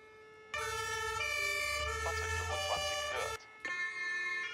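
A German Martinshorn siren on a fire brigade command vehicle (ELW) or crew transport (MTF) blares loud and close with steady alternating horn tones, cutting off briefly near the end before resuming.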